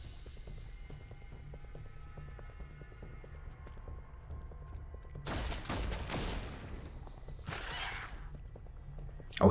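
A gunfire volley in the Deathwatch: Tyranid Invasion video game, heard as a dense burst of sharp shots lasting about a second over a steady low background hum, followed by a hissing effect.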